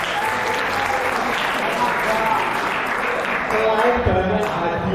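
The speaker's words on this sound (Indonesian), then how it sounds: "Tepuk tangan dong untuk BI" An audience at a millennial talk event breaks into a loud, dense round of applause for BI, sustained throughout with a brief voice briefly audible near the end.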